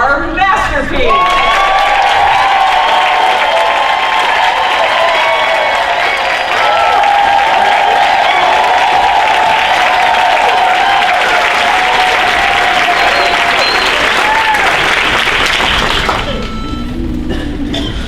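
An audience gives loud, steady applause mixed with cheers after a quartet's performance, filling the hall for several seconds before it quickly fades.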